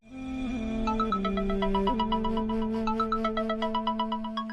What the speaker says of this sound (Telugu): ఫోన్ రింగ్ అవుతుంది కదా, వినిపించట్లేదా?